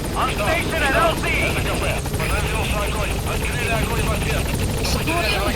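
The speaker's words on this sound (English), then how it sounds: "Support helicopter has arrived." In Metal Gear Solid V, the support helicopter's rotors throb in a steady, loud drone for several seconds while voices talk over it.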